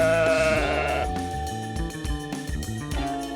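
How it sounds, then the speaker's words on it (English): A sheep bleats loudly and close by in several wavering calls, the first drawn out and the later ones shorter and broken, with no talking over them. "The sheep has soft wool."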